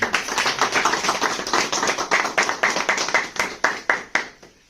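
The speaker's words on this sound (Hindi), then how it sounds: "एमडी सर के लिए जोरदार ताली होना चाहिए" An audience claps for the MD at a wellness business plan presentation, a quick, steady run of sharp claps that slows into a few separate, louder strikes and then stops.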